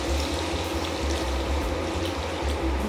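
Warm water pours from a cup into a cooking pot of eggplant and roasted peppers for zacuscă: a continuous splashing, gurgling stream, fairly close and steady.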